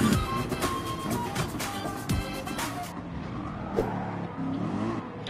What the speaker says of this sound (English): There goes the Ferrari.